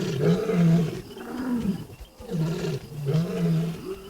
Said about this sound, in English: as a pride roars, other lions hearing it can count how many lions are calling